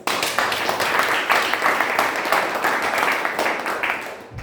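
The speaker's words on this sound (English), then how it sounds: "a big round of applause for all of us" Audience applause at a Toastmasters club meeting, a steady broadband wash of many hands clapping together that holds evenly for several seconds before tapering off at the end, with no voices over it.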